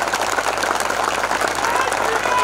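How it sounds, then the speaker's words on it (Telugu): A large audience bursts into loud, sustained clapping at a Narasimha Swamy prayer gathering, a dense continuous wash of applause that holds steady for the whole stretch with voices mixed in. "మా రాముణ్ణి మాకు ఇస్తున్నటువంటి వారికి గట్టి చప్పట్లు కొట్టండి"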